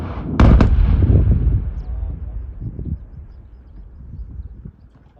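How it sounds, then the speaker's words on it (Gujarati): A sand-quarry blast goes off as a heavy, booming explosion with a sharp crack up front, rumbling on and slowly fading over several seconds. Voices murmur faintly in the background. "તમે બ્લાસ્ટિંગ જોયું મિત્રો?"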